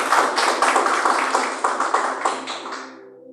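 A church congregation claps together in praise, a dense burst of many hands with rhythmic peaks, loud and close, fading out at the end.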